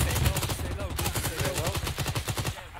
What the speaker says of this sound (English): we're taking shots from an AA gun, bearing 196 from our position